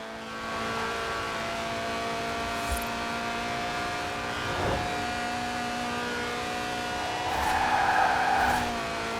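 Race car in Forza Horizon 4, a featherweight car under 700 kilos with a 190-horsepower 1.8-litre engine revving to 8,000 RPM, droning steadily at high revs with a louder rising burst near the end as it slides through a corner.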